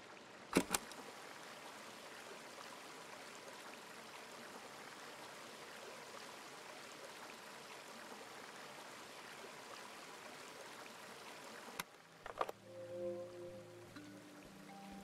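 Water running steadily, a soft continuous rush like a stream or tap, faint and unbroken for most of the stretch before a few sharp knocks and a brief tonal hum at the end.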